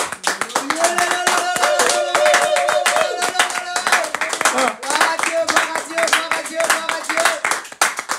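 A church congregation claps loudly and continuously to acclaim the Lord at the close of a sermon, with sustained voices and tones ringing over the brisk clapping.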